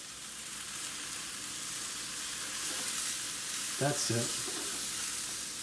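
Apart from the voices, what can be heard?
white mushrooms sautéing in a pan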